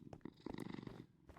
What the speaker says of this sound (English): That's a very, very happy purr.